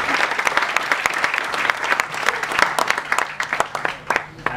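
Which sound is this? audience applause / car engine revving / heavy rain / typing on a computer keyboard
audience applause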